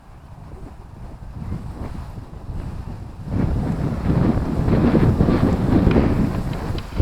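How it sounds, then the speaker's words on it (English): Strong wind buffets a camera microphone, rumbling at first and then surging louder and harsher about halfway through, a continuous gusty roar with no talk. "the wind is that strong it just blew my camera over"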